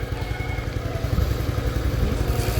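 A Suzuki Skydrive 115 Fi motorcycle engine idles close by with a steady, even low-pitched chug and fast regular pulses.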